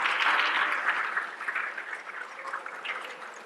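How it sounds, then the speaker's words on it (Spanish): A church congregation applauding together, a dense, steady wash of clapping that is loud at first and gradually thins and fades over a few seconds, with no voices over it. "Dale un aplauso al Señor."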